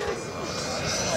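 A model Me-262 jet with twin electric ducted fans flies past with a steady whooshing whine, loud and continuous under a voice.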